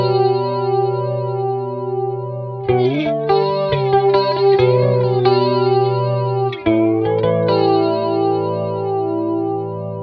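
An electric guitar plays sustained chords through an Electro Harmonix Electric Mistress flanger with the colour control turned up. The sound is loud and close, with a sweeping, jet-like shimmer and two chord changes.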